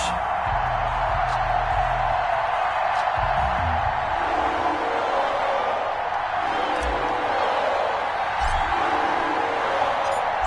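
Stadium crowd noise with a steady roar and scattered cheers before kickoff of a Los Angeles Rams versus Jacksonville Jaguars NFL football game, a continuous dense wash of voices with no distinct talk.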